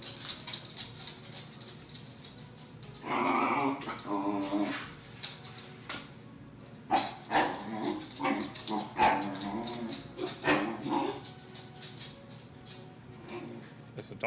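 A dog gives a run of barks and yips close by, loud in short bursts, with whimpering and pattering between them over a quiet room background.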